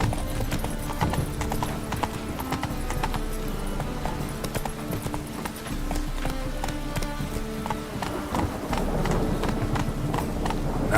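Roach, a horse in The Witcher 3: Wild Hunt, gallops with steady, rapid clip-clop hoofbeats over a dense game soundtrack, loud and continuous, with a brief whinny mixed in.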